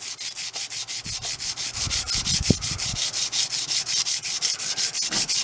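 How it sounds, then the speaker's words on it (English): Fine 220-grit sandpaper rubbed back and forth over an antique wood chisel during restoration, making a close, steady rhythmic scratching of quick even strokes, with no talk. "Then we got some 220 sandpaper."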